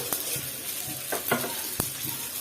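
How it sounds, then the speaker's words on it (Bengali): Whole cumin and fenugreek seeds sizzle and crackle in hot oil in a pan, a steady frying hiss broken by a few stirring knocks, close up with no voices. "আর তেলটা আমার গরম হয়ে গেছে আমি কিছু আস্ত জিরা দিয়ে দিব আর তারপরে দিব হচ্ছে আস্ত মেথি দানা"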